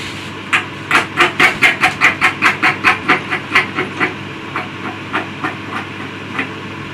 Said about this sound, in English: So the actual blade is running quite cleanly.